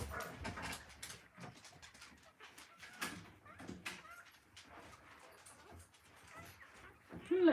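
Several Dalmatian dogs barking and whimpering outdoors, with irregular yelps and whines overlapping, mid-distance and moderately loud, bird calls faintly behind and a voice briefly heard.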